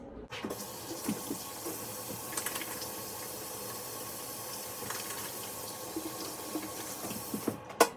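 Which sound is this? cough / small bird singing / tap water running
tap water running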